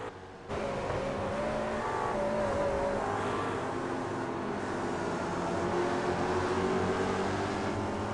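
A race car engine accelerating hard during a race, bursting in after a brief quiet moment and then holding a loud, steady roar with a pitch that climbs and shifts as the throttle opens.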